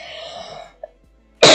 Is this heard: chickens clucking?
no